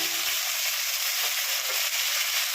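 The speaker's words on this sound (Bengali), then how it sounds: "এটা ভাজা হচ্ছে" Potato and onion frying in a pan with cumin seasoning for a tengra fish curry give a steady, loud, close sizzle that runs unbroken throughout with no talk.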